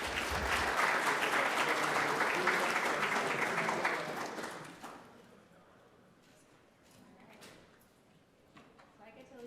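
Audience applause welcoming speakers at a city housing conference, loud sustained clapping for about four seconds that then thins out to scattered claps and quiet room noise.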